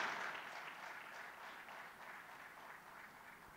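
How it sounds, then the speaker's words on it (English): Faint, distant applause from a conference audience welcoming an ambassador, a soft steady patter of many hands that gradually fades. "Please give him a big round of applause"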